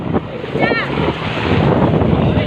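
Wind buffets the microphone over lapping water and engine rumble from a small rental boat in Batangas, with a brief rising whistle-like tone early on.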